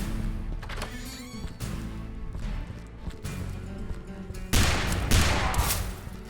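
Gunfire in the Call of Juarez Western shooter game, with a dense run of shots and a sharper, louder burst near the end, all over continuous game ambience.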